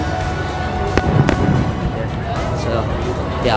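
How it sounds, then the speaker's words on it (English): Several sharp booms pop in the distance as scattered fireworks go off at Disneyland, partly buried under casual talk and crowd murmur. "If you can hear in the background, the fireworks are actually going off."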